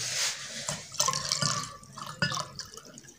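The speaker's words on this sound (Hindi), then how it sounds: "अभी इतना पानी डाल दिया" Water splashing and dripping as it is poured into a glass during a water-filling challenge, with irregular close splashes and trickles, one sharper splash near the middle and another near the end.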